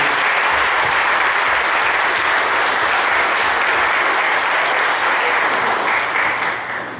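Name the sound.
church congregation applauding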